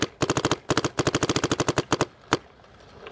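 A Dye M2 MOS Air paintball marker fires rapid bursts of closely spaced sharp pops, a fast string, a short pause, another long run, then one final single shot, loud and close with no talk.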